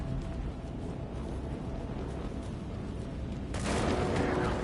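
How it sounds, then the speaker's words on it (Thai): Handgun fire in Alan Wake 2, with a dense crackle of shots through a steady roar of game noise and a louder burst near the end. "นี่คือปืนมือสินะไงเพื่อน"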